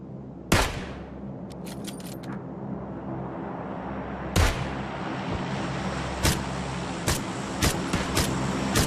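SKS rifle shots ring out in the PUBG battle royale game, sharp separate cracks spaced irregularly over a steady low background rumble, with a few faint distant pops between them.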